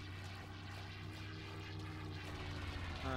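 A propeller airplane flying overhead in a military video game match, a steady droning engine hum with a buzzing tone that grows slightly louder toward the end, no talk.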